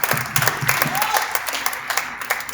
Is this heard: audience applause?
yes